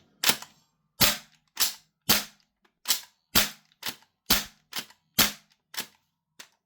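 An airsoft gas rifle fed by a Double Eagle V2 PMag fires eleven sharp, close semi-automatic shots in a fairly steady rhythm, each a crisp pop with a short gas hiss, with no voices.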